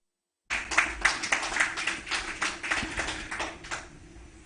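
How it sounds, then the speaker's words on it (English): An audience applauds a president with a dense patter of hand claps that holds for a few seconds, then tapers off. "Shall we please give Mr. President another round of applause?"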